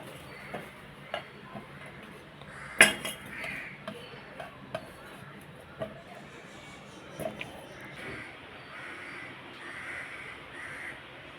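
A crow caws repeatedly at a lunch-time feeding spot outdoors, the calls coming in irregular bursts over a low ambient background, with one louder harsh call standing out among fainter ones and no talking.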